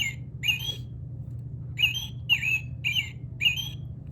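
Bird calls attributed to a red-breasted robin in a neighborhood yard, a series of short sharp squawking notes, six in quick bursts with a brief gap after the first two, fairly clear over a low steady hum.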